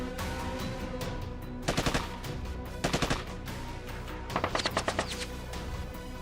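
Gunfire during a police encounter in a village in Kannauj, where police attempt to arrest a history-sheeter; bursts of rapid shots come in three clusters over a constant background din, fairly distant and sharp.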